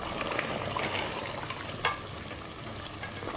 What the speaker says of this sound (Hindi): इसको अच्छी तरह भूनते जाएंगे।